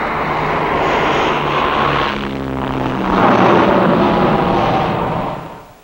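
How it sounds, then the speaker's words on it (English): A US OV-10 Bronco light armed reconnaissance aircraft passes with a loud, steady propeller-engine drone that swells, shifts pitch as it goes by, then fades at the end, with no voices. "The OB-10 Bronco, a very effective light-armed reconnaissance aircraft."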